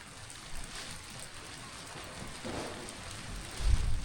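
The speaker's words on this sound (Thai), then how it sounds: "ฝนตกเดี๋ยวนี้นะ" Rain falling on a village in rural Vietnam, a soft steady wash of drops on surfaces with a slightly heavier spatter near the end, no voices.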